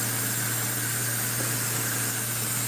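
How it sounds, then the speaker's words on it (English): A pressure pot hisses steadily in a kitchen, with a constant broad, rushing noise and a low hum underneath, unbroken throughout. "Sorry for the noise of the pressure pot and the"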